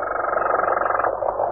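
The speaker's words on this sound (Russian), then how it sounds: "Не обращайте внимания на необыкновенные сигналы гидрофона. Звуки производятся стаей рыб, известных под названием квакающих." Croaking from a school of fish picked up underwater by a hydrophone, a steady dense buzzing drone with a rapid pulsing texture, loud and continuous throughout.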